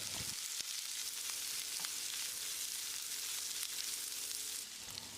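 Steady sizzling and crackling of sliced onions frying in hot oil, a constant hiss with a few small pops, close and moderately quiet.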